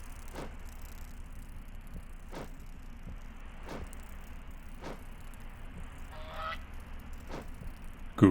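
Goose honking in a moth-catching game set in an insect-infested house, a faint call repeating at roughly one-second intervals over a quiet hum, with a louder burst at the very end.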